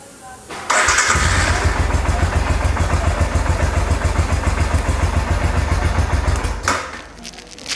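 A motorcycle engine cranks on a weak battery at 9.5 volts, a loud, close starter churn with a rapid chugging pulse that runs steadily for about six seconds and then stops.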